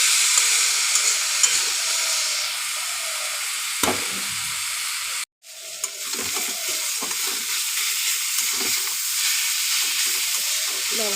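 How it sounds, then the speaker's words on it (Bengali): Chilli leaves fry in a pan, giving a steady bright sizzle with occasional stirring scrapes and a brief cut to silence midway, with no speech. "লঙ্কা পাতা আমার হয়ে এসছে ভাজা।"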